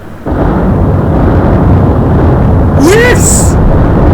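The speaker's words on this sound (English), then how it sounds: "let's do a depth charge run now" A depth charge goes off in the Atlantic Fleet naval game, a loud, sustained rumbling blast that starts abruptly and fills the whole clip, with a brief whistling tone near the end.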